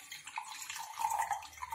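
Pond water is poured into a lab beaker for a dissolved oxygen test, a soft, faint, continuous splashing trickle heard up close with no talking.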